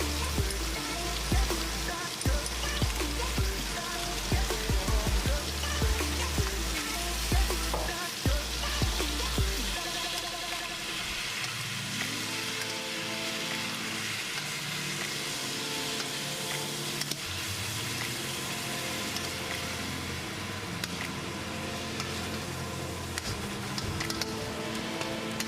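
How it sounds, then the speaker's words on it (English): Garlic and parsley frying in a pan for rabbit al ajillo, a continuous crackling sizzle with faint tapping during the first part, then a softer steady frying hiss over background music. "Continue stirring for about 5 minutes until the garlic is done and golden"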